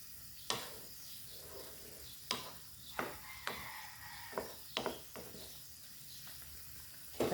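Chicken frying in a pan for pancit bihon, a soft steady sizzle with sharp scraping and clattering stirs from a utensil at irregular intervals, moderately quiet and without talk.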